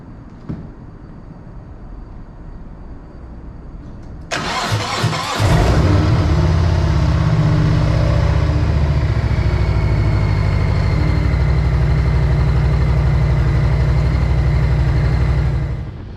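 A motorcycle engine starts with a sudden loud burst and settles into a steady, close, rumbling idle that fills the rest of the moment, with no talking.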